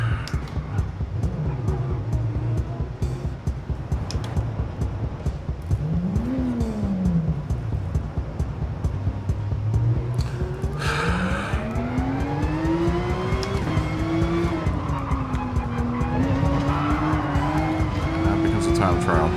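Race cars at Brands Hatch in GT Sport, a loud engine revving up and down through gear changes with tire noise, close and continuous, while someone talks over it.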